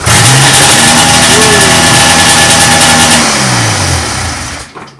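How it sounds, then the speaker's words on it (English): A snowmobile engine with a Mikuni carburetor cold-starts and holds a loud, steady high idle close by, its buzzy drone wavering slightly before cutting off abruptly near the end. "something that will always cheer you up is hearing a nice snowmobile run up"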